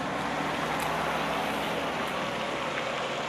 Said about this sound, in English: The sound of cars is deafening.